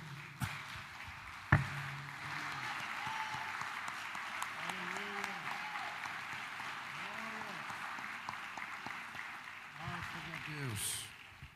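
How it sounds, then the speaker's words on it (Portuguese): A church congregation applauds in worship, a steady bed of crowd clapping with a sharp knock near the start and tonal, sung or spoken voices rising intermittently above the clapping. "E vamos aplaudir o Espírito Santo de Deus"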